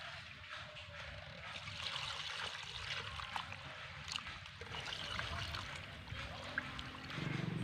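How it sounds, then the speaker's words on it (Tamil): Water trickles and splashes steadily as country chicken pieces are rinsed with turmeric in a bowl, a continuous close washing sound with a slightly heavier pour near the end. "இப்போ மஞ்சத்தூள் போட்டு ஒரு ரெண்டு தண்ணி விட்டு கழுவி எடுத்துக்கலாம்."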